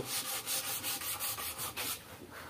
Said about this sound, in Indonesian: Oh, di amplas yang bekas kena limnya ya.